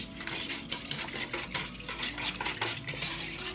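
A utensil clinks and scrapes against a bowl while teriyaki jerky marinade with brown sugar is stirred, the metallic taps repeating at a quick, uneven rhythm close by.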